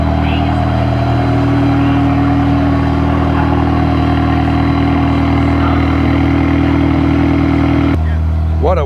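A Koenigsegg Gemera production car idles with a steady, loud, low engine drone close behind at an outdoor car event; the hum holds constant, then drops suddenly near the end while people talk nearby.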